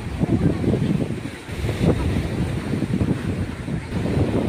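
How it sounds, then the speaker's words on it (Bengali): Sea waves surging onto the beach at Digha Mohana, a continuous broad roar of surf mixed with gusting wind buffeting the microphone, steady and fairly loud throughout. "ঢেউগুলো আসছে একদম"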